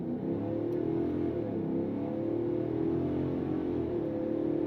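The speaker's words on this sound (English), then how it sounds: "I'm going to give it a bit of a brake boost off the line" A 2026 Ford F-350 Super Duty King Ranch pickup with the 7.3 engine in four-wheel drive high launches from a stop, its engine droning loudly and steadily as it pulls hard, heard from the cab without talk.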